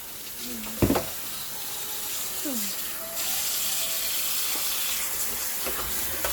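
Goat meat for Jamaican curry being washed under a running tap, a steady broadband water hiss filling the clip, with a brief knock near the start and faint talk at moments.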